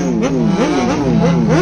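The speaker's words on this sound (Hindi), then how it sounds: "वहां पे कार ड्रिफ्ट चल रही है" A car drifting at the Valley Run 2024 car event, its engine loud and near, revving up and down repeatedly in quick rising and falling pulls.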